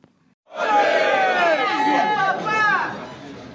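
After a brief quiet moment, a large outdoor crowd bursts into loud cheering and shouting to welcome the Justice Minister, a sustained chorus of voices with whoops that tapers off toward the end.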